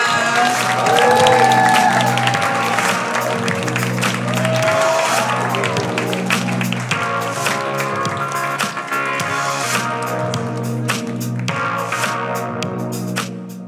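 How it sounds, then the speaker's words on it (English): A comedy club crowd applauds and cheers for a stand-up comedian being introduced, sustained clapping under music that gradually thins out. "Start clapping right now. Give it up for Edie Moga!"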